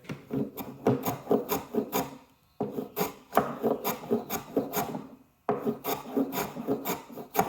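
KAKURI Japanese hand plane chamfering the edge of a wooden mallet with diagonal grain, rhythmic close scraping strokes in quick repeated runs, each run of several rasps broken by brief pauses.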